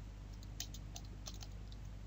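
A computer keyboard is typed on while entering text in Microsoft Word, giving soft, quick clicks in an uneven patter over a low steady hum, with no voices.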